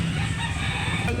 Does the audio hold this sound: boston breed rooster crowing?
yes